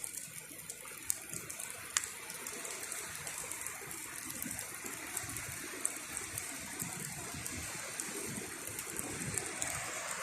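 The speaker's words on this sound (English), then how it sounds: "I think the tide's coming in now." Water from an incoming tide rushes and washes in a steady broadband hiss, with faint ticks over a low rumble and no voices.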